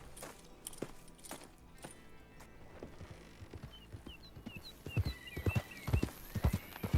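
Horse hooves clip-clopping in Red Dead Redemption 2, a steady run of close hoofbeats on ground that grows louder toward the end, with faint bird calls in the background.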